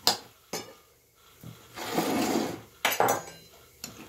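Beetroot pieces stirred in a pot for a beet goulash, with sharp clinks and knocks of a utensil against the pot and a wetter scraping swirl in the middle, close and unaccompanied.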